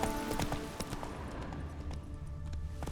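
Roach the horse from The Witcher 3 sounds a quick series of close hoofbeats, a sharp clip-clop rhythm over a steady game background hum.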